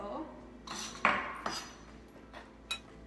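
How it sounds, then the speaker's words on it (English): A kitchen knife chops sun-dried tomatoes on a cutting board, giving a few scattered, light knocks and clinks at an uneven pace, close but fairly quiet, with a faint voice in the background. "I'm chopping up these sun-dried tomatoes"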